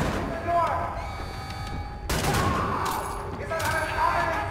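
Shotgun fire in Wolfenstein: The New Order, with a few heavy blasts across the stretch and the loudest near the midpoint, set against constant game noise and background sound.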